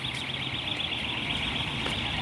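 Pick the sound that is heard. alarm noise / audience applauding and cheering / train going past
alarm noise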